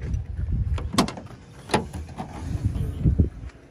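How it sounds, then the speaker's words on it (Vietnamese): Someone opens the trunk of an imported car that has hand-cranked rear windows: a series of clunks and latch clicks with rustling handling noise between them, close by. "Đây mở cốp ra luôn cho các bác xem này."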